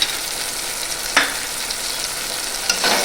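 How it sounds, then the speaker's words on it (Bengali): Ginger-garlic paste is stir-fried with tangra fish in a pan. A steady, fairly loud sizzle is broken by a few scraping stirs. "আদা রসুনটাকে ভালো করে একটু নাড়াচাড়া করে নিয়ে"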